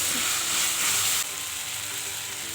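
Ginger-garlic paste frying in a pan for fish curry, a steady close sizzle and hiss, loud and continuous, dropping slightly in level partway through with no talk.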